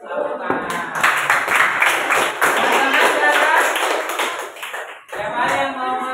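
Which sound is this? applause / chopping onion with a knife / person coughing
applause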